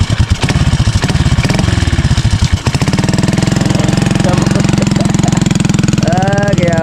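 A motorcycle engine, used for a learner's riding practice, runs close by with a steady chugging idle that shifts pitch a couple of times, while people talk over it.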